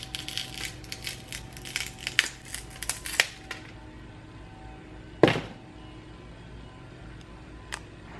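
A crushed iPhone with shattered glass is peeled open, giving a run of crackling, crunching clicks followed by one sharp loud snap and a faint later tick, close up with no talk.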